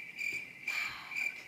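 Crickets chirp in short, bright, steady pulses, three bursts in quick succession, quiet and alone as a sound effect.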